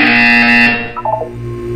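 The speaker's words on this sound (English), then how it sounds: "You will hear a buzzer. When you hear the buzzer, look up at the ceiling." In the video game Portal 2, a harsh electronic buzzer blares for under a second and then cuts off, leaving a short tonal fade and a faint hum.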